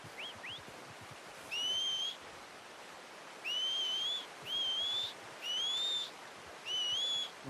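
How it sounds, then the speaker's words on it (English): A player whistles to call a horse in Red Dead Redemption 2: two short chirps, then four clear rising whistles in a steady, repeated rhythm over a faint outdoor ambience. "You have to whistle."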